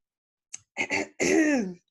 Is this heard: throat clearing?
yes